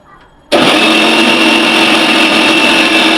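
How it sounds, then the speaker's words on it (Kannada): After a brief quiet moment, a kitchen mixer grinder starts abruptly and roars at full, constant speed, blending masala with a little water into a smooth paste. "ಒಂಚೂರು ನೀರು ಹಾಕ್ಕೊಂಡು ಅದನ್ನು ಫುಲ್ ಗ್ರೈಂಡ್ ಮಾಡಿಕೊಂಡು"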